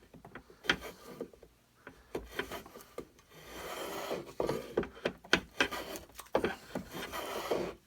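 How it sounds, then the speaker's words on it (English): Hand filing on a wooden rifle stock, taking it down flush with the butt plate. Rough rasping strokes come in irregular bursts, close and moderately loud, with no talking. "That I can take down with the files or sander or whatever"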